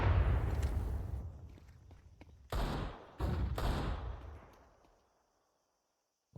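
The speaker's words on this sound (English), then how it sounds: "Shots continue to ring out." Gunfire in a competitive Counter-Strike match, a few loud muffled shots with echoing tails that fade to silence.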